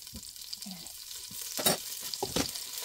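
Butter frying in a hot pan while a meatball pasta sauce is started, a steady close sizzle with a few louder stirring bursts partway through and no talk.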